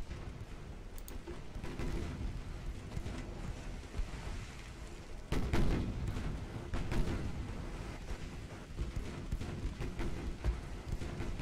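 Warship guns firing armor-piercing shells in a naval battle in the game Ultimate Admiral: Dreadnoughts, set in an 1890 British campaign, a low rumbling backdrop with a heavy boom near the middle and scattered further thuds.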